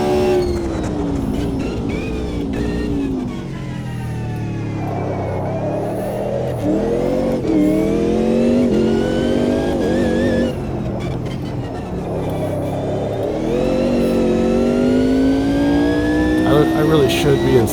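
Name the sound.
car engine revving while racing through corners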